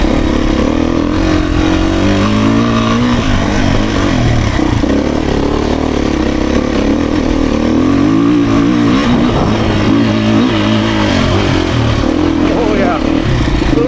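A Beta 390 Race Edition dirt bike engine roars and revs continuously while being ridden, loud and close, with rising and falling throttle swells and talk mixed in beneath the engine.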